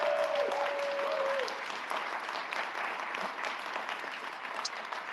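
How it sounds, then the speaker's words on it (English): Audience applause for Chiara Padovani, a social worker and community organizer, at the opening panel of a socialist ideas conference, a steady wash of clapping with a brief tone at the start and no speech. "Please give a round of applause for Chiara."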